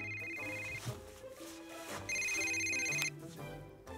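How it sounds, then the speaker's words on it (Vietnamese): A telephone rings in a dubbed Korean TV drama scene, an electronic ringtone with a repeating tone pattern over soft background music, fairly close and steady, with no talk. "Sao anh Đai Bông lại gọi cho mình nữa?"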